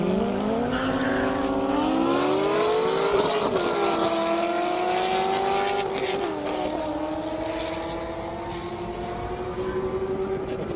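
Corvette Grand Sport and Z06 drag racing on an airstrip, with loud, continuous engine roar rising in pitch through the gears and holding near, then easing slightly as the cars pull away.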